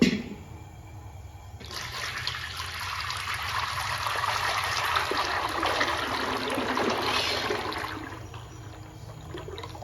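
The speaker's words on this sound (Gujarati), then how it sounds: "સૌથી પ્રથમ આપણે દસ લીટર તલનું તેલ નાખીશું આ કાળા તલનું તેલ છે" Black sesame oil poured into a pot, a steady close liquid stream pouring for several seconds over a low hum, then tapering off near the end.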